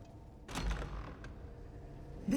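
A door creaks open in the Elder Scrolls Online, a mid-length groaning creak with a mechanical clunk, fairly close and clear, with no talking over it.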